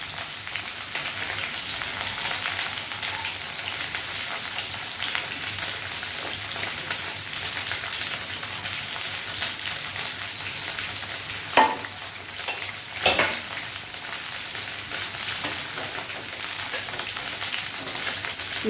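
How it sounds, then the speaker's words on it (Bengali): Soaked, washed dal fries in refined oil with a continuous, even sizzle like steady rain. A couple of louder stirring scrapes surface partway through. "এটা ফ্রাই করবো"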